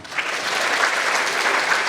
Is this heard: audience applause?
yes